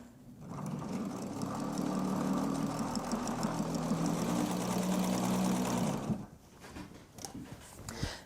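A sewing machine backstitching on a costume shirt, a steady close motor drone running for several seconds before stopping, followed by faint handling noises.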